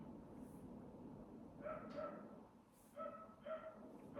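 Neighbours' dogs bark and yap in short bursts at a distance, faint and intermittent over a quiet background.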